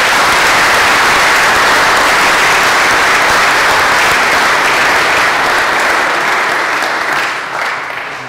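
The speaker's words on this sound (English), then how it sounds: "Let's add another round of applause." A chapel ceremony audience at a school alumni weekend gives a full, loud round of applause, dense sustained clapping that holds steady for several seconds before tapering off at the end.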